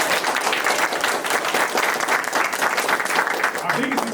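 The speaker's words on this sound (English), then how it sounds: "you gotta give him a clap." A crowd claps steadily at a barber shop grand opening, dense sustained applause filling the room for about four seconds with voices mixed in.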